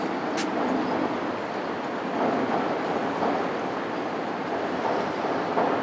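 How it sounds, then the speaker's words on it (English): A train passing through downtown Chicago near the river and the Merchandise Mart Plaza, heard as a steady, fairly loud broadband rumble that holds for several seconds with no voices over it. "And there's a train. Let's go see the train."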